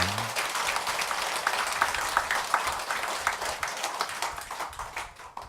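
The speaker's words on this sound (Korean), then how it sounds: "감사 박수 부탁합니다" Audience at a Buddhist temple dharma service applauding together, a dense steady clatter of many hands clapping nearby that holds for several seconds before gradually thinning out.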